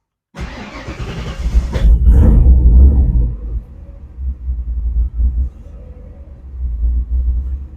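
Cold start of a Ford Ranger truggy engine: a cranking catch, then a loud rough roar that settles into an uneven, lumpy idle with a couple of throttle blips, close by and with no talking.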